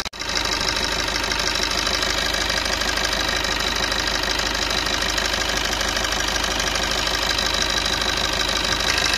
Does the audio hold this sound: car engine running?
yes